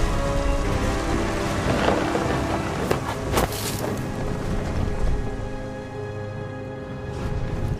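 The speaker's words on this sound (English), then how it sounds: "The thunder sounded much too close and full of angry power." Thunder rumbles and heavy rain pours in the video game What Remains of Edith Finch, with loud cracking bursts of thunder around the middle over a steady, dense rain wash throughout.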